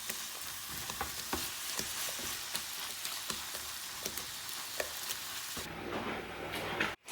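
A vegan mince pasta sauce simmering and reducing on a stovetop, a soft steady sizzle with regular bubbling pops that ends in a brief clatter.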